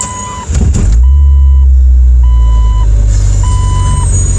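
A Jeep Cherokee XJ engine cranks and catches, then settles into a loud, steady idle rumble, while a dashboard chime beeps in three evenly spaced sets over it.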